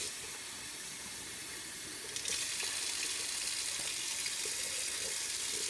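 Warm water runs steadily from a tap into a container as a bee pollen patty mix is prepared, a constant hiss that grows slightly louder and fuller partway through, with no talking.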